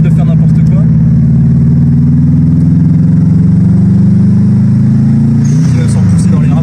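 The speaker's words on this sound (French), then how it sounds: "Et ce bruit de double valve qui te donne envie de... c'est génial, hein." A Subaru WRX engine drones loudly and steadily, its pitch creeping slightly upward before a brief shift in tone near the end, with a voice talking over it.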